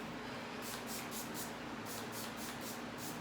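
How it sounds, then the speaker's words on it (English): A series of about eight short, hissing spray bursts from a pump bottle of leave-in conditioner sprayed onto hair in quick succession, close by, over a steady background hiss. "I'm probably gonna spray some leave-in conditioner just because."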